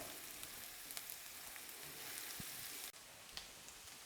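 Shallots soften in a sauté pan with a steady, quiet, fine sizzle that crackles on without a break, with a few soft clicks from stirring.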